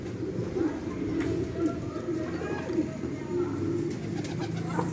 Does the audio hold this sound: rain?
no